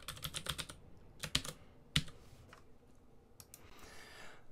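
Computer keyboard typing: a quick burst of close, crisp keystrokes, a few isolated clicks, then a short soft rustle, with no one talking.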